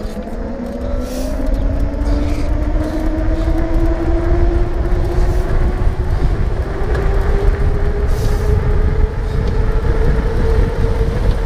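A 3000W 48V Alibaba Bomber e-bike at full throttle: a steady electric motor whine climbs slowly in pitch under heavy, continuous wind rush, loud and close throughout.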